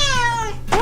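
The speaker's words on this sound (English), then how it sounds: "my cat when she wants food" A pet cat meows loudly for food, one long descending harmonic cry filling most of the moment, then the start of another sharp meow, close and clear.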